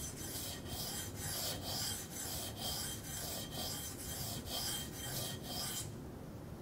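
Steady back-and-forth strokes of a knife blade across a DMT coarse diamond sharpening stone, a close rasping scrape repeating about every half second for six seconds before stopping.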